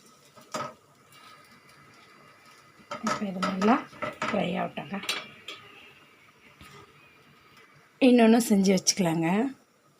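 A spatula clinks and scrapes against a pan in a few separate bursts as a paruppu poli flatbread is flipped, with someone talking in between.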